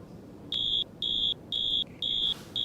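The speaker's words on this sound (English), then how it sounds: "There's the bell." An electronic school bell or buzzer rings in a steady pattern of five short, evenly spaced bursts, loud against quiet background hiss.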